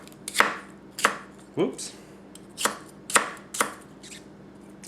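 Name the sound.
chopping food with Tanaka Kurouchi 210mm gyuto knife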